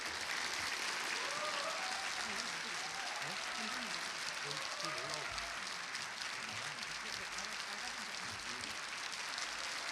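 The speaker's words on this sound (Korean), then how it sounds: "큰 박수로 맞이해 주시기 바랍니다." A lecture hall audience applauds to welcome a museum director before a special lecture at a Korean national museum, a steady, fairly distant wash of many hands clapping throughout with faint voices beneath.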